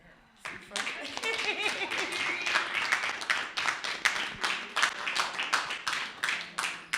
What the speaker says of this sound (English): You two synchronize your claps?